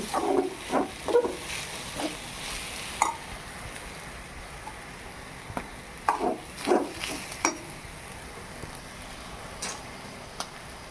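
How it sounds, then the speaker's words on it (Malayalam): Grated coconut roasting in a pan for a squid curry, heard as a soft sizzle with scattered stirring scrapes and ticks, fairly quiet and close, with no talking. "തേങ്ങ അങ്ങനെ വറുത്ത് വരുന്നുണ്ട്."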